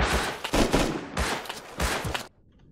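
Gunfire in the video game Rust, three loud bursts of rapid automatic shots separated by short pauses, close and harsh, cutting off abruptly into near silence.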